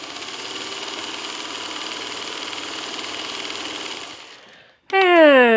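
A sewing machine stitching curtain fabric, running in a fast steady mechanical whir for about four seconds before stopping, then a brief high tone sounds after it stops.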